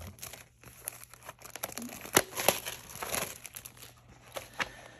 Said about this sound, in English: I'm just gonna cut the sticker.